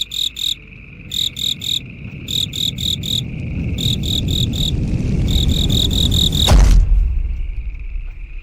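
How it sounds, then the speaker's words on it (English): Crickets chirp in rapid rhythmic pulses, loud and close against a low rumbling background, ending in a sudden sharp thump. "crickets."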